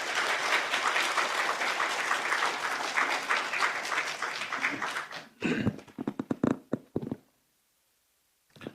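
A church congregation at a revival meeting applauds to welcome the pastor forward: dense, loud clapping for about five seconds, then scattered claps and taps that trail off into near silence.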